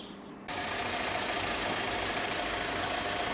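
Toyota 1.2-litre turbo engine in a Corolla-family car catching on start and settling into a steady idle, a sudden onset followed by an even, close hum.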